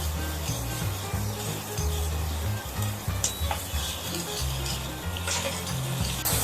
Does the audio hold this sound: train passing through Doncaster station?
no